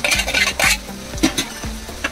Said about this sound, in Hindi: ये दाल हमारा अच्छे से इसके साथ हम मिक्स करते हैं